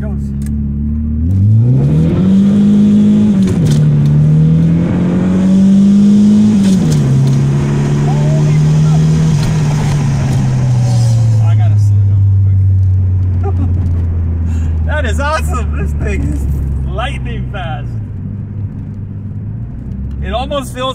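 A Volkswagen MK2 GTI accelerates hard, heard from inside the car, the engine note climbing steeply through the gears with pitch drops at each shift, loud and continuous, then easing into a lower droning cruise as a voice speaks over it.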